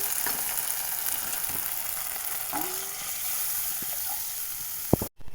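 Water poured into spice paste frying in oil for a pangas fish curry, giving a steady close hiss and sizzle throughout, with a few sharp clinks near the end.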